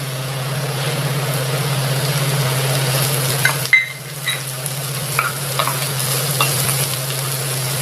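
Onions and carrots frying in a pan for millet upma give a steady, close sizzle, with a few stirring clatters in the second half and a constant low hum beneath.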